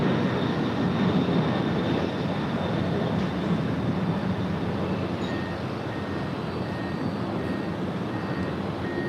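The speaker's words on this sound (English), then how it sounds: "This Coletta Air Flight 828 departing to Anchorage. It's a 23-year-old 747-400 freighter." A 23-year-old Boeing 747-400 freighter departing LAX, a constant heavy engine rumble with a faint whine, steady and moderately distant, easing slightly toward the end.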